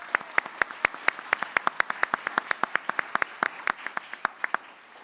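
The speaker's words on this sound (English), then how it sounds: "a round of applause" Applause at a school board meeting after an employee is honored, a small group clapping in a fairly even, distinct rhythm of sharp hand claps that stays close and clear without talk.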